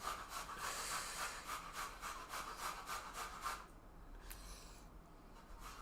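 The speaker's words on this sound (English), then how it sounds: "once she grates the carrots, we'll be done" Carrots grated with a steady back-and-forth rasping rhythm, faint and fairly close, stopping partway through to leave only quiet room noise.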